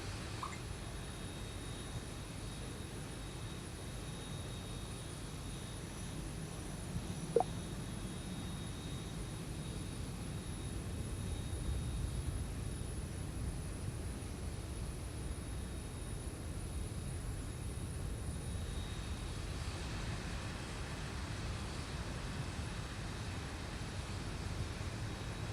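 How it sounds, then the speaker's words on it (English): Boeing 737 engine spooling up in a flight simulator with the Zibo mod, a low steady whine and rumble with a faint high tone, one brief click partway through, no voices. "Starting number 1 engine."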